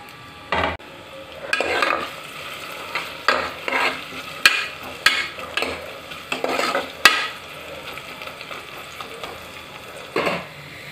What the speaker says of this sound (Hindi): अब मैंने कुकर में 2 टेबल स्पून तेल डाल दिया है और उसे प्याज फ्राई करूंगी।